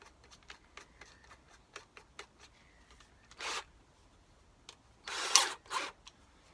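A drill spinning a slotted quarter-inch wooden dowel fitted with a Scotch pad whirs in short bursts, faint at first then two louder abrasive spins, amid scattered handling clicks and rustles.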